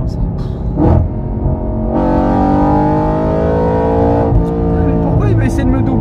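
An Audi RS4 engine pulls hard under acceleration, a loud, rising harmonic drone that climbs steadily for a few seconds before easing off, with road noise and a brief vocal sound around it.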